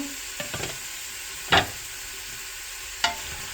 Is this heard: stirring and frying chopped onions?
yes